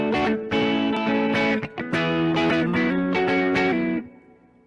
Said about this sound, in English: So you're going to hammer on your 3 fingers and then pull it off.